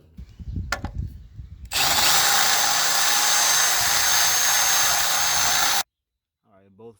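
A power drill bores a 5/8 inch hole through a steel leaf spring bracket on a Ford dually truck, with a loud, continuous high-pitched grind lasting about four seconds, then cutting off abruptly. Light handling noises come before it and a short voice follows.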